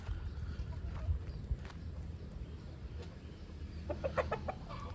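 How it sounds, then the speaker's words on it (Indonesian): Backyard chickens cluck faintly over a steady low rumble of background noise, with a short cluster of calls toward the end. "Ada 6 ekor ayam."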